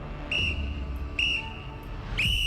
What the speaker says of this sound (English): I always bring a whistle with me when you hear 3 short blasts like this.